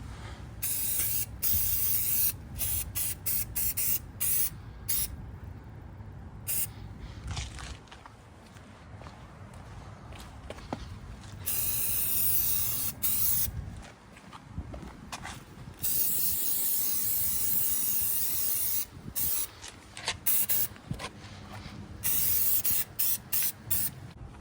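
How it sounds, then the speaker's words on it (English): Aerosol spray of Surface Shield coating on a Yamaha four-stroke outboard motor and its brackets: repeated close bursts of hissing spray, some short and some several seconds long, separated by brief pauses and faint handling sounds. "I'm gonna give it a little spray here and there."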